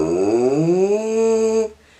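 A tuba played with a lip siren, one smooth sustained tone gliding upward in pitch and holding, close and loud, cutting off near the end.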